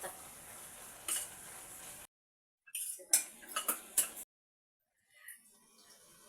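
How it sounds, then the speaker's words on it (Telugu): Onions and green chillies being stirred in a pan for a Telugu amaranth (thotakura) curry give off a few sharp, close metal scrapes and clinks in short bursts, with quiet pauses in between. "మంచిగా ఉల్లిగడ్డలు మిరపకాయలు అన్నీ కలిసేటట్టు కలుపుకోవాలి."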